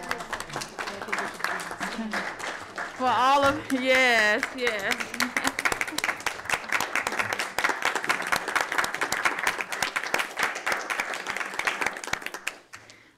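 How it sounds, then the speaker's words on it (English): Applause rises at a school board of education meeting, many people clapping in a sharp, scattered rhythm that runs for several seconds while voices speak and cheer over the start. "Give him a round of applause."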